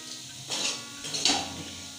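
Potato curry being stirred in a pan over low flame, with two short bursts of spoon scraping and soft sizzling separated by quiet pauses, close and moderately loud.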